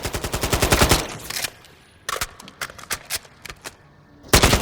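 Bursts of automatic gunfire from a tactical weapon in Call of Duty Modern Warfare III, fired at a slow rate, first as a sustained string of loud, sharp shots, then as separate single shots and short bursts with brief pauses between them.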